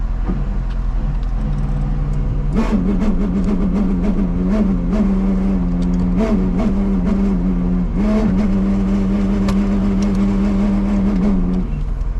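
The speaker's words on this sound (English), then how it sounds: "It goes into gear, but it makes some crazy ass noise." A K20 supercharged Honda Civic wagon with a destroyed clutch runs close and loud, its engine note revving and wavering unevenly over a constant low rumble, with rattling, grinding clicks throughout and no talking.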